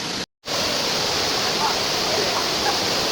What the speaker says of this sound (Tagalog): Nakita naman yung Layahan Falls sa likod ko.